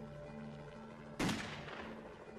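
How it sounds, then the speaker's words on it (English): A single sharp, loud report from a 9mm Beretta handgun cracks out once against a faint steady hum, then decays briefly. "But Phillips carries on shooting"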